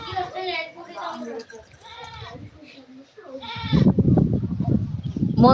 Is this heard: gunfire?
no